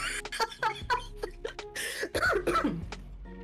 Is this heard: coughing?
yes